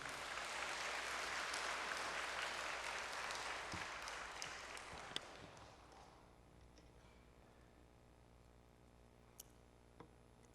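A church congregation claps to welcome a professor to the pulpit at an anniversary spiritual gathering, the applause filling the room for several seconds before fading into quiet hall ambience with a few scattered late claps.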